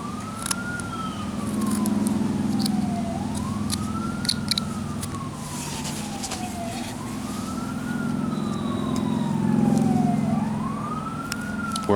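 An ambulance siren wailing outdoors, a steady rising-and-falling sweep repeating roughly every three seconds, moderately distant, over a low traffic rumble with occasional small knocks.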